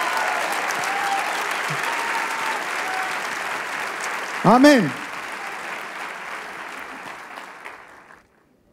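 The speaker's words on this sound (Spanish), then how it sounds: "¡Fuerte ese aplauso, Rey!" A church congregation breaks into loud, sustained applause that fills the room, with a voice shouting over it briefly midway before the clapping fades out.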